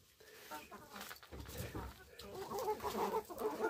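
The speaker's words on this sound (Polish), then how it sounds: "Kurki jedzą dziś kapustę, kapusta smakuje im." Hens cluck softly while pecking at cabbage on a Sunday-morning garden outing, their low murmuring calls mixed with rustling and a nearby voice, growing busier toward the end.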